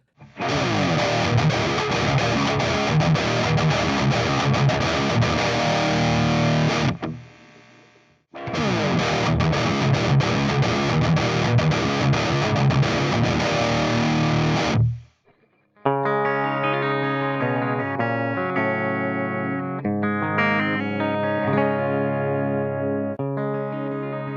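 Heavy distorted electric guitar chords, played through an AXE I/O ONE audio interface, ring out in two loud passages, then a cleaner, brighter guitar tone plays picked notes for comparison.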